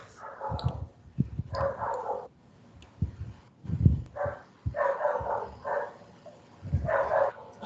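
A dog barks repeatedly nearby in uneven bursts, with some whimpering yips between the barks.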